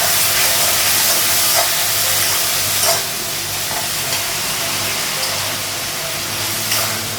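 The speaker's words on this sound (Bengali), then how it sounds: "অল্প জল লাগাবো।" Water splashed into a hot pan in a home kitchen, setting off a steady, close sizzling hiss of steam that runs for several seconds with small bursts of crackle and no talking.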